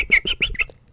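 A person imitates a bird with a quick run of five sharp, chirpy whistles, loud and close, each short and evenly spaced, trailing off at the end.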